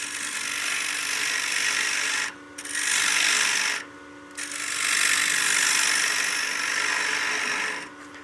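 Wood lathe turning a coin box while a scraper cuts the spinning wood, a loud, steady broadband hiss and scrape that drops away briefly twice, close up and without speech.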